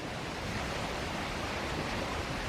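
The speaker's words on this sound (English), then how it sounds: "All right, one more view of the running water." Rushing water pouring over a retention pond spillover after heavy rain, a steady, dense broadband roar that stays loud and unbroken throughout, with no voices.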